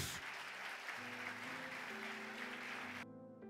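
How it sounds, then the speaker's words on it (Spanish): A church congregation applauds during a Spanish-language sermon, with steady, dense clapping that fills the room at moderate volume, sustained tones underneath, and the sound cutting off near the end. "¿Cuántos pueden dar un aplauso fuerte a Jesús?"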